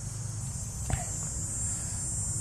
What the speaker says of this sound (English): Wow, those cicadas are loud.